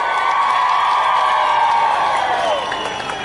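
A crowd at an outdoor political public meeting in Darjeeling claps and cheers loudly, a dense sustained wash of applause with shouts rising over it.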